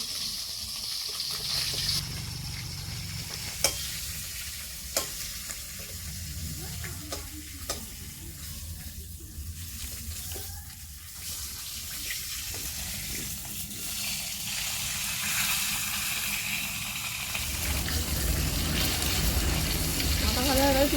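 A rohu fish head fries in hot oil with a constant bubbling sizzle and occasional crackles and spits; the frying stays steady and close, swelling louder toward the end.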